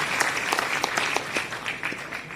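Applause from university students after the Governor's convocation speech in Kashi: a steady, dense patter of many hands clapping throughout, moderately loud and fairly even, with no voices on top.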